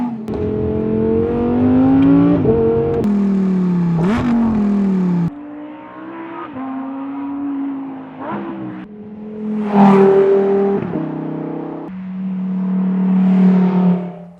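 A Lamborghini Huracán Sterrato's engine drives close and loud, its revs rising and falling in steady sweeps with distinct breaks between gear changes.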